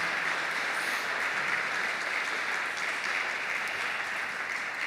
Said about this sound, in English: a warm round of applause for Karim for the smooth beats.